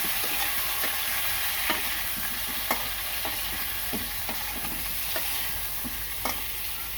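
Mustard curry sautéed and stirred in a pan, with a steady low sizzle of frying under repeated scraping strokes of a spoon at an even, unhurried rhythm, close and alone with no talking.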